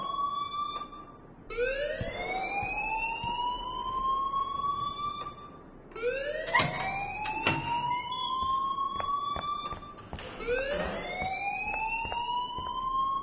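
Alarm ringing inside the video game Life is Strange: loud, repeating electronic siren whoops that sweep upward in pitch and restart about every four seconds, with no voices over them.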